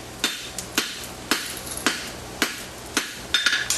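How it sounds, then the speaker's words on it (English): A hand hammer strikes hot steel while a wedge is forged, sharp metallic blows landing at a steady, roughly even rhythm, close and distinct with no talking. "we're going to take my hammer, and I'm going to hit at an angle, pulling it out"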